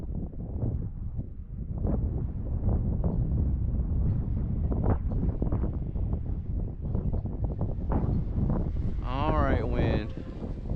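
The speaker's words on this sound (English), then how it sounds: "Alright, wind." Steady, loud wind buffets the microphone outdoors while an RC Pilatus PC-21 model airplane flies, a continuous rumbling roar with a person talking over it.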